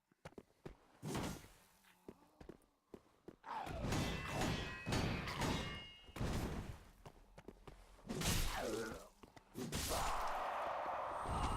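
A slow, heavy weapon swinging and striking in Dark Souls 3, with several loud, irregular thuds and crashing impacts scattered among quieter game noise.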